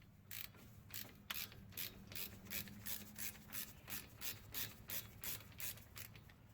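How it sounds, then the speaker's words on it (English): A ratchet turns a 14mm socket loosening front brake caliper bolts on a 2008-2014 Dodge Avenger, clicking in a steady series of rhythmic bursts, close and fairly quiet, with no talking. "you will need a 14mm socket to loosen and remove the two front brake caliper bolts"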